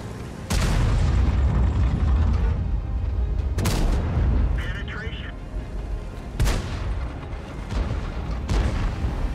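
Tank cannon shots in World of Tanks, heavy booming blasts recurring at intervals with rumbling decay between them, loud and close, with brief voice chatter in the mix.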